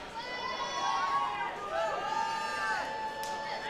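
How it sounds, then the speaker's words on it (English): Spectators at a robot fighting world championship finals stir and chatter as a crowd, a swelling babble with rising whoops, heard at a distance beneath the arena ambience. "I hear the crowd getting excited"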